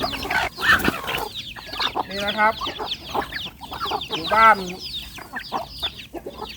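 Chickens on a rural Thai farm in Surin cluck in bursts of short repeated calls, fairly close and loud, while someone speaks briefly between them.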